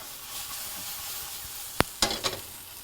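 Nuts tossed and whisked around in a hot pan while pork chops are cooked, a soft steady sizzle with a sharp utensil tap and a couple of scraping rattles near the end, close, no voices.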